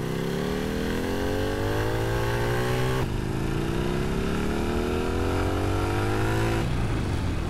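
Motorcycle engine in the game GTA San Andreas with a GTA V-style sound mod, revving up twice in long rising sweeps that cut off and restart, loud and close with no talk.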